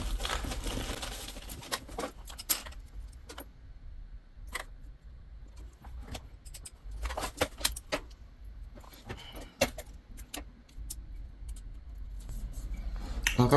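Scissors snip through a paper bill-pay calendar page in a quiet room, a series of close, crisp cuts and paper rustles, with no talking.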